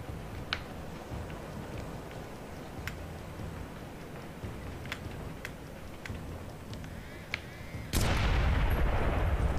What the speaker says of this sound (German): Ich muss sie von oben kaputt schießen.